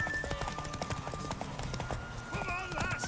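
A horse's hooves clip-clop steadily in The Witcher 3: Wild Hunt, with a whinny near the end. Game music and ambient sound run underneath.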